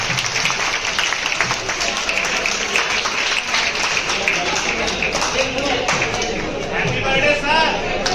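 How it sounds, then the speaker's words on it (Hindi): An audience at a farewell gathering for a teacher claps loudly and continuously, a dense roar of many hands with cheers and voices mixed in throughout. "एक बार जोरदार ताली होनी चाहिए।"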